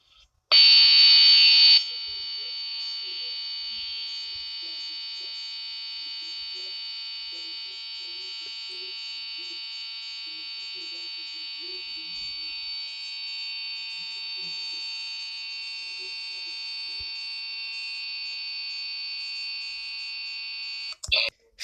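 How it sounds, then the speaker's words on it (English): Electronic fire alarm blaring in a cartoon building, a loud, steady, piercing tone that starts with a harsher burst and holds unbroken to the end, with faint talk beneath it. "the fire alarm went off"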